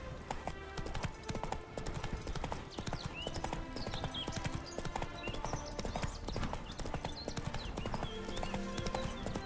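The horse in The Witcher 3 gallops along a road, a loud, continuous run of rapid hoof clip-clops with quick repeating rhythm and occasional snorts, layered over game music and ambience without speech.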